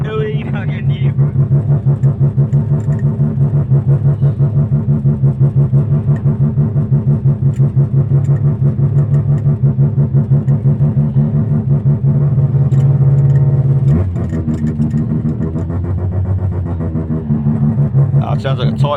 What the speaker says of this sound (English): it sounds like a tight motor, but it sounds fucking mean